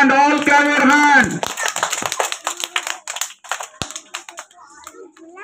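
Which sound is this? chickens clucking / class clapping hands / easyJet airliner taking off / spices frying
class clapping hands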